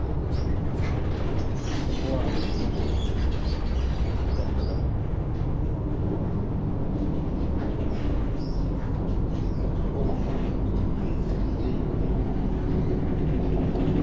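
Continuous rumbling rush of a fast passenger train in Malaysia in motion, heard from inside, steady and loud throughout with faint voices in the background.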